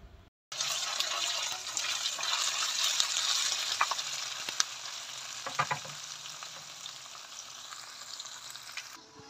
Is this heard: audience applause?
no